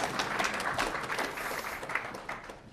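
An audience at a speech breaks into applause, producing a steady patter of many hands clapping together at moderate loudness with no talking over it.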